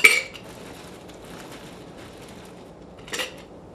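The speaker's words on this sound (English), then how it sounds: "So here goes the ice." Ice cubes tumble into a cocktail shaker while a Fuzzy Navel is mixed. A bright clattering burst opens the moment, then the room goes quiet before a second shorter rattle of ice against metal.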